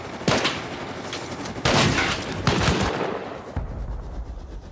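A turret fires in a video game raid on an inverted open core, giving loud bursts of gunfire that crack sharply, keep rattling in between and fade away near the end.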